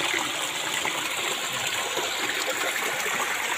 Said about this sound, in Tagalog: Yan, kataas. Mini waterfalls.